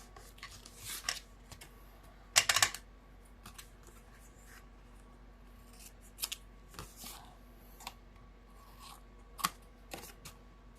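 Scissors snip through paper for a Paper Pumpkin card craft, a few quiet close cuts with one brief burst of rapid snipping amid soft handling noises.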